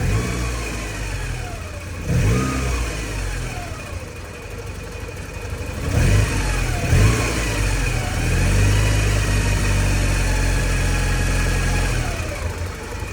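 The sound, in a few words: Porsche 944 project car engine running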